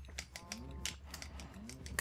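In Minecraft, a cow moos in short, soft repeated lows against faint mechanical ticking, with a sharper sound at the very end.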